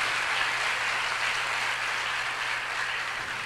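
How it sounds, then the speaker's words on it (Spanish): A church congregation applauds during a sermon, a steady wash of many hands clapping together at an even level, with a faint low hum beneath. "Ese aplauso se lo va a dar a Dios."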